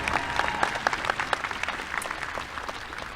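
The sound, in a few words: audience applause for award recipients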